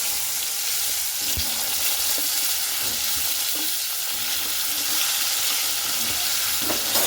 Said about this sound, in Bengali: পটলটাকে একেবারে লাল লাল করে মানে ভেজে নিতে হবে।